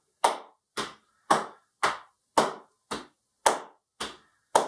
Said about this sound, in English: Tapping and clapping.